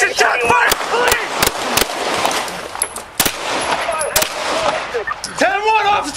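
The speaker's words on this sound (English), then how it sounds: "The squad port echoed with gunfire as officers returned fire." Rapid gunfire cracks out in a police station shootout caught on a dashcam, with sharp repeated shots in bursts amid loud shouting voices and a wailing siren.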